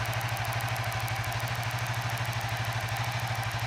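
Suzuki FU 150 fuel-injected motorcycle engine running steadily at mid RPM, a close, even pulsing drone with a fast regular beat and constant loudness throughout, no voices.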